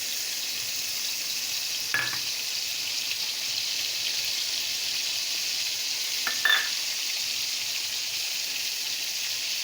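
Prawns fry in hot oil left over from frying potatoes, a soft, steady sizzle broken by two sharp clinks of a utensil against the pan.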